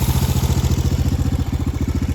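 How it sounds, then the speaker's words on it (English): A motorcycle starter motor, powered by a KemiMoto battery, cranks in a fast, even, rhythmic churn of closely spaced pulses, loud and close, running alone without voices. "Listen to the starter motor."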